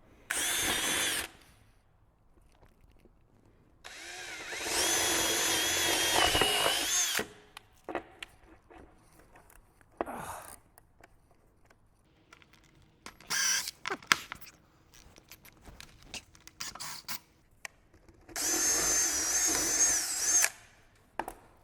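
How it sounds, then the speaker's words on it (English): A cordless drill whirs in several separate bursts of a few seconds each, close by, with quiet clicks and handling noises in the pauses. "I had to go get a cordless drill"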